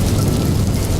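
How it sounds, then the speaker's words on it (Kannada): Heavy rain beats steadily against a window on a cold night in a London apartment, a dense continuous downpour with a low rumble beneath that fits distant thunder, loud and close with no voices. "ಮಳೆಯ ಹನಿಗಳು ಕಿಟಕಿಯ ಮೇಲೆ ಬಡಿತಾ ಇದ್ವು."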